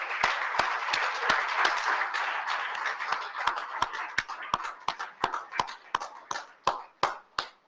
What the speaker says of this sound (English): Friends, I would request you to give a big round of applause for Sri Harin Bhai Pathak.